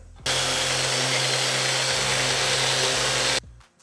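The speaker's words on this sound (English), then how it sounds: "just lightly sand it" Power sander smoothing 2x4 lumber with high-grit paper, a steady broadband whir running about three seconds alone, starting and stopping abruptly.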